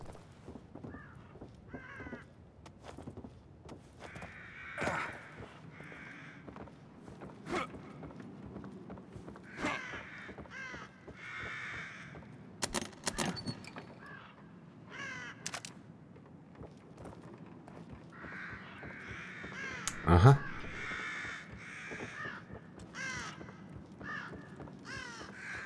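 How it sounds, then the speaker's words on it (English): Crows caw repeatedly in The Evil Within video game, loud and scattered harsh calls over an eerie ambient background, with occasional thuds and no talking. "Birds are gonna need to shut up soon."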